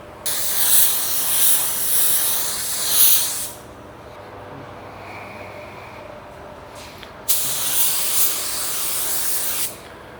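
A budget spray gun sprays clear coat onto a tri-stage pearl Nissan Altima, giving two loud close bursts of airy hissing separated by a quieter pause.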